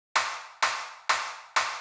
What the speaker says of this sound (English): some extra claps,